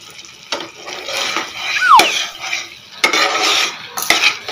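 A pea curry cooks in a pan while a spoon stirs it, giving soft bubbling and sizzle broken by sharp metallic clinks and scrapes of utensil against pan, close and intermittent.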